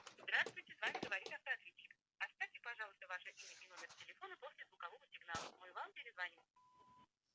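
An old Soviet telephone plugged into a wall socket gives off a short electronic tone near the end, after someone talks over most of the stretch.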